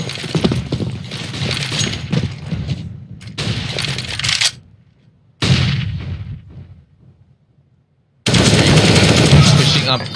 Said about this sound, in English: Up close, the pistol again.